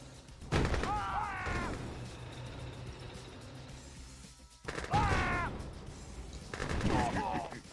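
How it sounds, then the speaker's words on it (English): Blowticks blowing up in the strategy game Mental Omega: sharp, loud bursts recurring at intervals against a busy battlefield din, with a commentator talking between and over the blasts. "I hear more Blowticks exploding"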